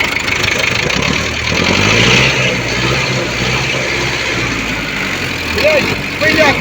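An SMD diesel engine in a YuMZ tractor idles steadily with a rough mid-low rumble, and a nearby voice talks over it.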